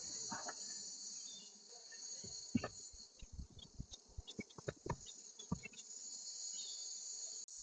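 Honey bees drone in a steady, close insect buzz around a beehive as an AutoHive super goes on, with knocks and thumps of hive parts handled through the middle.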